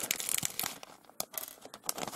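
A resealable plastic bag holding Lego minifigure parts is pulled open, giving close, crinkly rustling and tearing crackles in short bursts.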